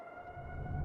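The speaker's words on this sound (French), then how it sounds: "C'est la sirène d'inondation de Manitou." A distant flood warning siren wails steadily over Manitou, a sustained tone rising slightly in loudness across the short stretch, with low rumbling background beneath it.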